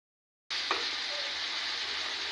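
Meat frying in a pan, a steady bright sizzle that starts abruptly and continues evenly, close and alone with no talking.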